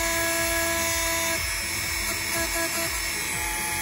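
A power sanding machine strips paint from a 1956 Ford pickup, giving a steady, close mechanical whir with a rhythmic grinding pulse as the pad works the metal, heard alone without talk.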